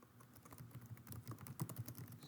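Typing on a computer keyboard while adding a text box to a Schoology conference whiteboard: a quick, soft run of close key clicks, faint and steady, with no talking.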